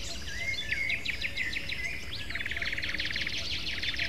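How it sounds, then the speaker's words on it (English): Ambient bird-call cues in a video game, two overlapping streams of rapid, bright chirps and trills that loop continuously over a soft background hiss, with no voices. "So you can hear two separate ambient bird cues going off at the same time."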